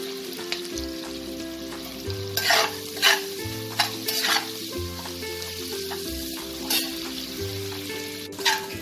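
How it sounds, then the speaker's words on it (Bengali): Two large finely chopped onions fry in hot oil for Bengali restaurant-style egg korma, a continuous crackling sizzle with intermittent bursts of stirring scrapes, and soft tonal music running underneath. "এই পেঁয়াজগুলোকে হালকা ব্রাউন করে আমি ভেজে নেব।"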